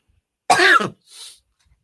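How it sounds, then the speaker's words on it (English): A single harsh cough followed by a softer, breathy second cough, close and alone in quiet. "Why am I coughing like this?"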